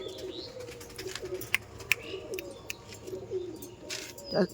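Madras pigeons coo softly in a loft, with low murmuring calls repeating under faint chirps and a few sharp clicks, fairly quiet and close.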